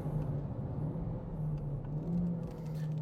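A budget race car, priced around 15,000 euros, is driven on a track, its engine a steady droning hum with a faint rise and fall in pitch, heard from inside the car.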